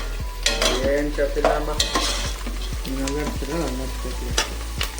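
Onions fry in a pan for uppittu, a loud close sizzle overlaid by a regular rhythm of spatula scrapes and taps against the metal.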